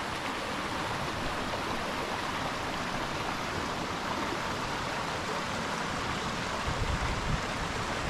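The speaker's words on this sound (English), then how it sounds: "the creek calms down a little bit as we come down this way." A steady, broadband rush of creek water flowing over submerged rocks, close and continuous without pauses or voices, its even hiss holding at constant loudness.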